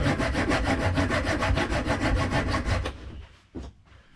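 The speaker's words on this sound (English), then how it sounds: "Bit of junior hacksaw." A small junior hacksaw cuts through wood for a dogpacking bike build, rasping in a fast, even back-and-forth rhythm for about three seconds, close and loud, then stopping with a couple of knocks.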